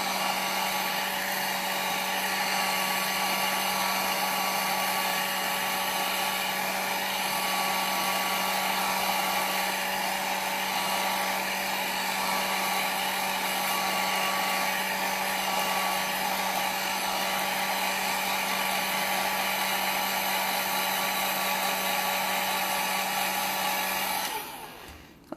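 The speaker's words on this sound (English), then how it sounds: "if you dry with the dryer, you'll get even more the lines." A hair dryer blows steadily and loudly for about 25 seconds over ink on kitchen paper, a constant droning whir that cuts off at the end, with no voices.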